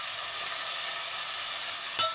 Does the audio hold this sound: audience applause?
no